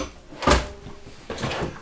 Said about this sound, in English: Jayco does slow close on their main drawers.